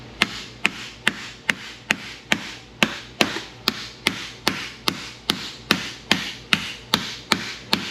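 A hammer strikes a car tail panel laid on a sandbag, about twenty sharp, evenly spaced blows in a steady rhythm, loud and close with no talk.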